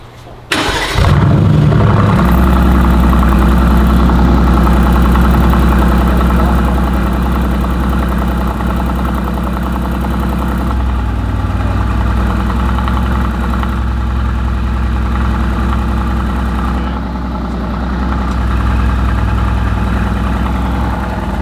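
A newly built supercar, a one-off of 25 planned, starting cold for the first time, then settling into a loud, steady, deep idle with a slightly lumpy rumble that holds for the whole stretch, close by with no talking.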